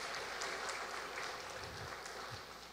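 Staff at a university spiritual festival give a speaker a round of applause, heard as a soft, distant wash of clapping that gradually fades toward the end.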